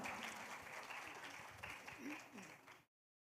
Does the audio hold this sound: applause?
yes